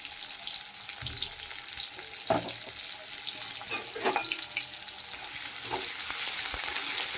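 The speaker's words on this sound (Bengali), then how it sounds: "পেঁয়াজটা একটু ভাজা হবে" Chopped onions sizzle steadily in a hot pan, with a spatula occasionally stirring and scraping them in short bursts over the constant frying hiss.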